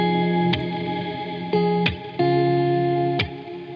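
Electric guitar through an effects chain in Logic Pro, sustained chords with three struck changes, clean and close with a soft reverb tail and no voices.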